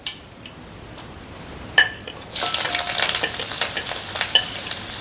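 Ginger drops into a pan of fried onion and coconut for Onam ulli theeyal, setting off a sudden burst of close sizzling after a light clink, then a steady crackling fry with stirring and utensil scrapes.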